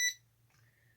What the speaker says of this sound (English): That's that sound of the controller getting turned on.